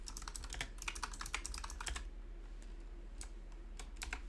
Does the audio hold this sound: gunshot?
no